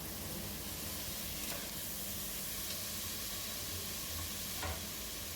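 Onions sautéing in a pan for chicken gravy, a continuous close hiss of frying with faint occasional stirring scrapes, steady and even the whole time with no voices.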